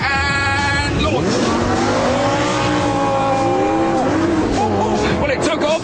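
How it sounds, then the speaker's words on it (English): A Lamborghini Gallardo Superleggera launching from a standstill, its engine revving hard and climbing sharply through the gears, loud and close, with people talking over it. "Sport, ESP, gear, foot off brake, wait for the flag to drop, and launch."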